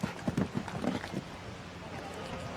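During a show jumping Grand Prix jump-off in Miami Beach, a horse's hooves thud in a quick galloping rhythm at the start. A commentator talks over the arena ambience as the hoofbeats fade into steady background noise.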